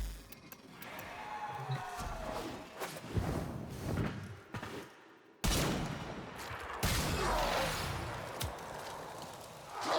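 Rapid bursts of gunfire from a sci-fi shooter video game, Warframe, crackle and thump in dense clusters with a brief silent gap midway, loud and close with layered impact effects.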